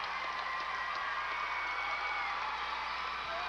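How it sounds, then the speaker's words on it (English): A high school basketball crowd at a state tournament game keeps up a steady, distant roar of cheering from the stands, a broad continuous wash of voices and applause. "Obviously, that cheer is for Brandner being back up and at him."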